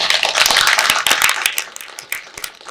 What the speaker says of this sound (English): I think she deserves an applause.